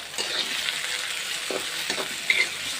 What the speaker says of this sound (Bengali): এখানে এখন আমি সর্ষের তেল দিয়ে মরিচটা হালকা একটু ফ্রাই করে নিতেছি